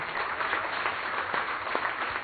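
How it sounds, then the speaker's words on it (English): A brief round of audience applause at a charity launch event honouring a hotel executive chef, an even, continuous patter of many hands clapping. "A round of applause for Chef Selvaraj Ramaswamy"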